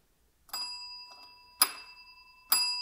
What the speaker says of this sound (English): Those are the 3 bells I owe you for getting it right before.